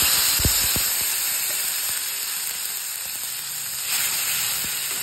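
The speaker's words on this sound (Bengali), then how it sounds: "তো এবার আমি এর মধ্যে টমেটো পিউরিটা দেবো।" Tomato puree hits hot oil in a wok, giving a steady broadband sizzle with a few sharp low clunks early on and a brief surge of hissing near the end.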